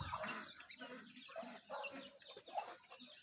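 A flock of farm ducks (itik) gives steady, overlapping throaty calls and clucking chatter, somewhat distant and fairly faint, with no pause across the short stretch.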